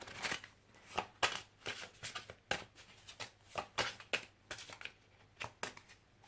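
Tarot cards being shuffled and drawn by hand, a quick run of crisp riffling snaps and soft slides in irregular bursts, close and fairly quiet with no talking.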